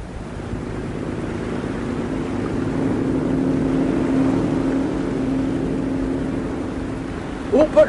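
A motorboat engine drones steadily at a moderate level alongside wind and water wash, with a brief sharper noise right at the end.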